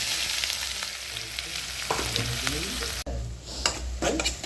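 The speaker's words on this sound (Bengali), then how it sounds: "পেঁয়াজটা ভাজা হবে লাল লাল করে।" Onions fry in hot oil for a chicken dish, giving a steady close sizzle with occasional stirring scrapes and a brief break partway through.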